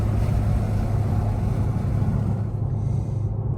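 An Infiniti Q60 fitted with upper downpipes idles steadily, heard from inside the closed cabin as a loud, continuous low rumble. There is no talking.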